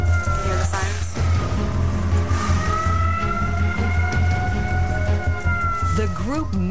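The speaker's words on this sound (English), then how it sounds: "the tsunami sirens went off" Tsunami warning sirens wail across a coastal area of Japan, a steady rising-and-falling tone sustained throughout amid vehicle noise, with people speaking over the loud continuous drone.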